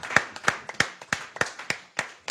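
A church congregation claps in praise of the king of kings, a steady rhythmic beat of about eight sharp claps, close and clear with no talking.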